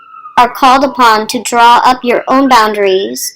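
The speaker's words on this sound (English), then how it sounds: "excuse the siren" A faint emergency-vehicle siren passes outside, its steady wail sitting low beneath someone speaking continuously close to the microphone.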